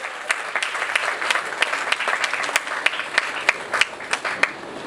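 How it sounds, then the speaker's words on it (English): A crowd claps steadily at a literary awards ceremony, a dense patter of many hands with sharper individual claps standing out near the front, continuing throughout. "give her a round of applause as well"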